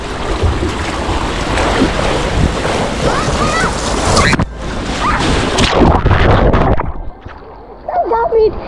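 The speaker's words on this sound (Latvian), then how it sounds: "Šodien ārā ir vējains un bēss, visur pūš caurvēji." Strong gusting wind buffets the microphone over crashing surf at a Hurghada resort in Egypt, loud and continuous, briefly dropping away before the roar returns; a voice speaks partway through.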